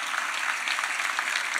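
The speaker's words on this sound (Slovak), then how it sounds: "Prosím vás, venujme na úvod potlesk Jane Olhovej a Eve Pavlíkovej" An audience at a political rally in Žilina applauds two honoured women with dense, steady clapping that carries on evenly throughout, with no voices over it.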